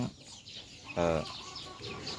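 A mixed-breed fighting rooster on a Thai farm gives short, raspy clucks with one louder burst in the middle, fairly close and otherwise quiet, with no talk over it.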